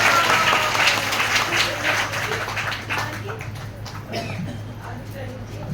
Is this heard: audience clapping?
yes